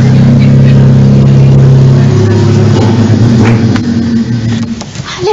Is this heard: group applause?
no